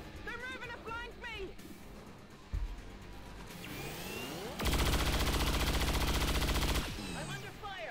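Rapid automatic gunfire in the video game XCOM 2 rattles loudly in a sustained burst near the end, preceded by single shots, whooshing effects and engine-like revving, with someone talking over parts of it.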